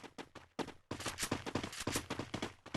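Rapid bursts of gunfire from the mobile battle game Free Fire, loud and close, firing in quick repeated volleys with short gaps between them.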